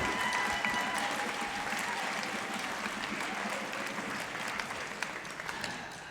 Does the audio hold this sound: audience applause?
yes